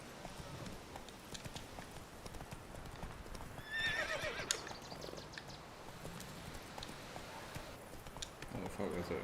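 Roach, Geralt's horse in The Witcher 3, clip-clops at a steady trot and gives a whinny partway through, with someone talking over the hoofbeats.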